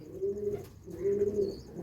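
Madrasi pigeons of the Bengal line coo close by in two drawn-out, rolling phrases with a short pause between them, fairly loud and with no voices.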